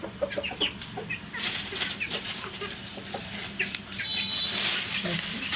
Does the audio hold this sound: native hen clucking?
yes